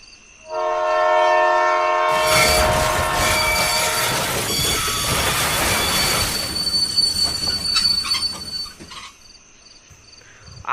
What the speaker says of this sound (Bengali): সেই সময় হুইসেল বাজিয়ে ট্রেনটি স্টেশনে প্রবেশ করলো।